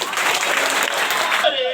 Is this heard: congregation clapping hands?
yes